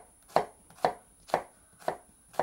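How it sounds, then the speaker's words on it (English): A knife chops through a shallot onto a cutting board in five steady, evenly spaced taps, close and crisp with quiet between strokes. "Just going to make some slices in the shallot"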